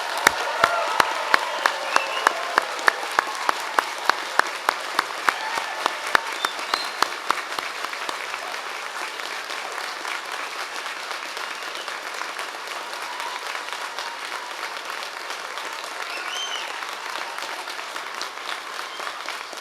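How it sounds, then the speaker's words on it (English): Graduation ceremony audience applauding the new graduates, crisp distinct claps in the first seconds swelling into a dense, sustained round of clapping that carries on alone until the end. "sound of applause."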